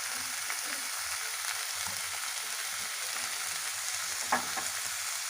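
Boiled, chopped banana flower frying in a pan for croquettes, a steady close sizzle with a few soft stirring scrapes and one brief louder clatter near the end, no voices.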